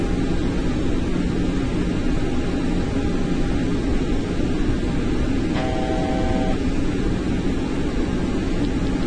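A steady, broadband engine roar from an Airbus A321 descending in FSX flight simulator, an unchanging hiss-like drone with a low hum beneath it and a short tonal beep partway through.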